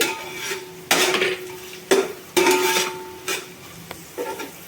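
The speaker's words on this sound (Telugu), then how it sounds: "తర్వాత కొంచెం క్యారెట్ వేసుకోవాలి" Carrots go into a pan of frying vegetables for veg paneer biryani. A spoon clanks and scrapes against the pan in several sharp strokes over a soft, steady sizzle.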